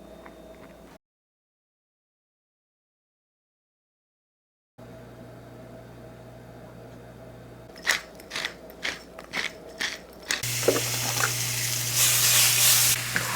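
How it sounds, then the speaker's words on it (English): Salmon searing in a hot pan: a quiet sizzle, a gap of silence, then a run of sharp crackles and spatters before a louder, steady hiss builds at the end. "we're going to sear our salmon"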